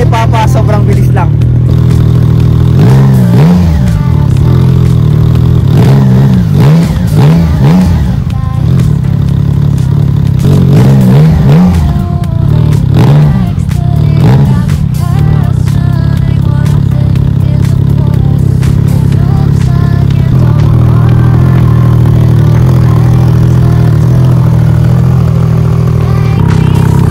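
Motorcycle engines idle and warm up after winter with a steady, loud rumble and some wavering revs, and a voice talks over the engines.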